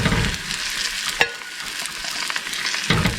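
Vietnamese banh xeo batter hitting an oiled pan and swirled around, giving a loud, bright sizzle that briefly flares with a sharp scrape, then settles into a steady crackle.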